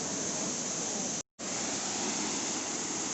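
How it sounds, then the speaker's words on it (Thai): Haew Narok waterfall sends spray falling from above in a dense, constant roar of rushing water, close and loud, briefly cut off by a short dropout before resuming unchanged. "จุดตรงนี้เรียกว่าน้ำตกเขียวนรกนะครับ"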